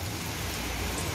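Heavy rain falls in Kuwait as a dense, even hiss of drops that stays at the same level throughout the short stretch.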